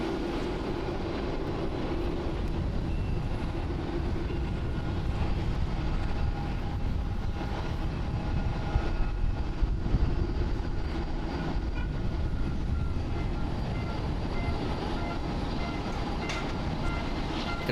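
A Boeing 787-8 Dreamliner takes off from runway 16 left at Tokyo's Haneda airport, a steady distant roar of jet engines that swells slightly midway and holds broadband rumble throughout.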